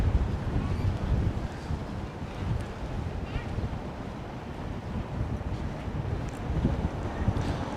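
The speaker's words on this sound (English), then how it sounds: "Oh, it's so windy." Strong wind outdoors on Oahu, Hawaii, a loud, continuous low rumble buffeting the microphone with gusty surges and no clear pauses.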